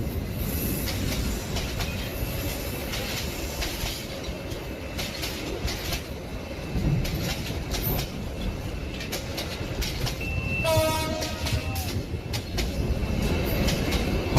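A train running at night in an animated Bengali ghost story, carrying a continuous rumble of wheels on the rails with rhythmic clacking and a brief high squeal near the end, steady and fairly loud, with no voices.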